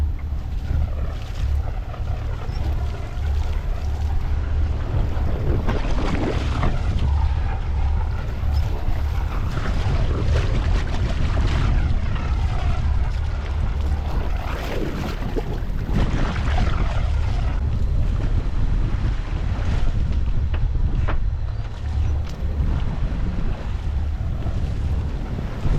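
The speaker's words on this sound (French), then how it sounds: "Étant donné les déferlantes là, on le voit." Large breaking waves surge and crash around a sailboat on the open Atlantic, with strong wind buffeting the microphone in a loud, continuous roar that swells and falls throughout.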